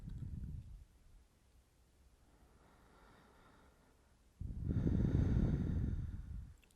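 Slow, deep breathing during a seated forward-fold yoga pose, with a long audible exhale at the start, a quieter stretch, then a loud, sustained breath near the mic.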